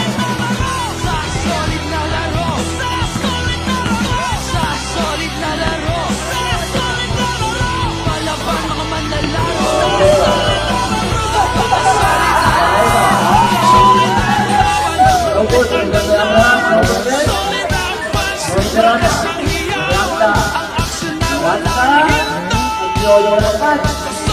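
Fans cheering and yelling at a basketball Christmas league game in San Fermin Luma, a loud continuous roar of crowd noise with rhythmic clapping or stomping building near the end.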